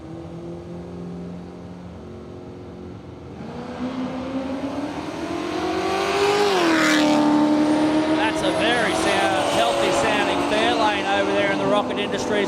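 An LX Torana blown street radial drag car runs down the strip at Willowbank Raceway, its engine note rising from a rumble into a loud, sustained high-revving roar as it passes, with a commentator talking over it.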